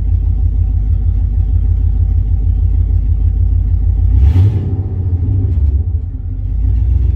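A car engine fitted with a Holley Sniper EFI throttle body idles with a loud, steady low rumble, then takes one short rev and settles back to idle.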